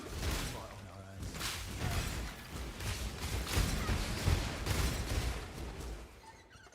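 Explosions blast a door open during a Path of Exile fight, dull booms and rumbling thuds spread through a dense, continuous wash of combat effects, moderately loud, with someone talking over them.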